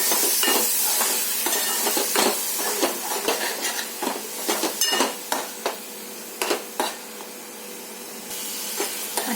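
Dry coconut and tomato paste being stirred in a pan for a chickpea curry, with a steady hiss and frequent sharp scraping and tapping strokes of the spoon, close and clear.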